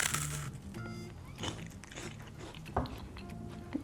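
A crunchy chocolate biscuit is bitten and chewed up close, giving a quick series of crisp crunches and grinding chews at moderate loudness with no speech.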